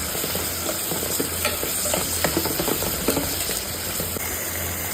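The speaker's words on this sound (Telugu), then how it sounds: "ఇప్పుడు టమాటా వేసుకుందాం. టమాటా వేసుకున్నాను. కొంచెం వేగలేద్దాం." Chopped tomatoes fry in a pan for a raw banana and tomato curry, with a continuous close sizzle and irregular spatula scrapes and clinks as they are stirred, and no talking.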